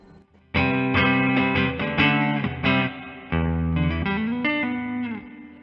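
A clean electric guitar with no overdrive plays a short strummed chord phrase through an amplifier, bright and sustained, with a few chord changes and no speech.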